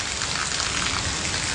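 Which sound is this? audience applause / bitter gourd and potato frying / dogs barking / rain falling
rain falling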